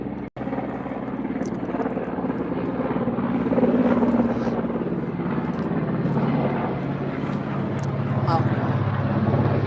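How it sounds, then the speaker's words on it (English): A helicopter's rumbling rotor drones steadily in the background, swelling louder partway through while a person talks over it. "it's a plane or a helicopter. I should say helicopter."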